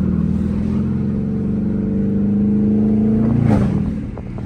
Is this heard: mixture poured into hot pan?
no